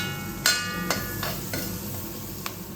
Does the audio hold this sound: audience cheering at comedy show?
no